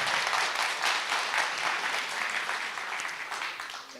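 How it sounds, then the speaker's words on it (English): Audience applause at a hackathon project presentation and awards ceremony, a dense, steady wash of many hands clapping together, fairly loud and continuous for the whole stretch with no voices over it. "let's do a round of applause"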